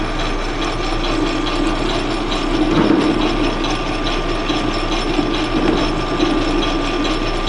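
A metal lathe turning aluminum at low speed, out of back gears, with a 10mm-shank carbide insert tool and kerosene as cutting fluid, produces a loud, continuous mechanical whir with fast rattling gear ticks throughout.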